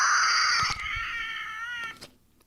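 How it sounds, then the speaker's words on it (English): A screaming novelty book lets out a shrill, high electronic scream as its cover opens, loud and sustained for about two seconds before cutting off, with a couple of soft clicks. "It screams when you open the cover."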